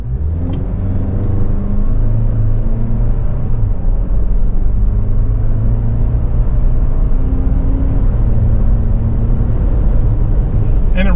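A 2024 Toyota Land Cruiser 1958 Edition accelerates from inside the cabin, its engine droning loudly and steadily while the pitch climbs in stages through the gears.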